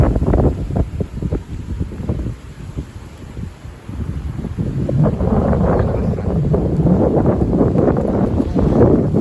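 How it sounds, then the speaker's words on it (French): Strong wind gusts of about 80 km/h from the south-southwest roar and buffet the microphone in a loud, continuous low rumble that swells and eases with each gust. "Voilà, déjà de très grosses rafales."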